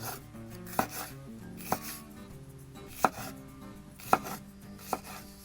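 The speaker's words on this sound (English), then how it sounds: "I'm just going to slice it fairly thin" A knife slicing bell peppers into thin strips about a quarter inch thick on a cutting board, five or six distinct, unhurried thunks at slightly uneven intervals over a faint steady hum, without speech.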